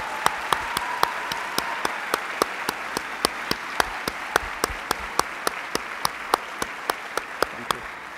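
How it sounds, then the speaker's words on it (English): Applause at a graduation ceremony, a steady crowd patter underneath a loud, evenly spaced single clap sounding close by at a brisk, regular beat. "I believe we could give her another round of applause"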